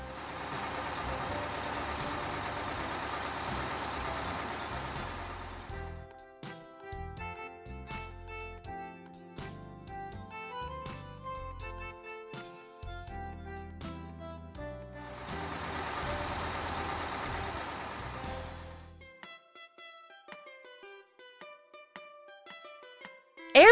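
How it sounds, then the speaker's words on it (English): An express bus sounds as a bursts of broad engine and air noise alternating with stretches of beeping tones, moderately loud and close, with no talk over it. "Express Bus."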